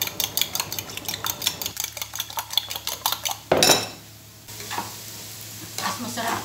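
Omelette ingredients being beaten in a bowl with a utensil, a fast rhythmic clinking whisking, then a loud burst of sizzling as the mix hits a hot pan, followed by quieter frying and more tapping.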